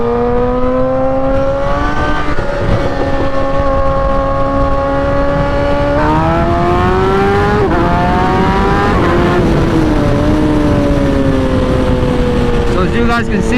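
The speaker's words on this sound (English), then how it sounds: "So as you guys can see, the bike's not hesitating." A 2008 Suzuki GSX-R 1000 motorcycle engine drones while riding in sixth gear at low revs, a steady tonal hum that rises and falls slightly in pitch, loud and continuous with wind noise.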